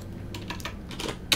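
Several quick keypresses tap on a computer keyboard, typing numbers in a short irregular burst of close, light clicks, heard alone.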